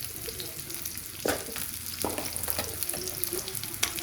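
Onions frying in oil for a mahashol fish curry with potato and stems, a moderate steady sizzle with a few louder bursts and small pops, fairly quiet and without speech.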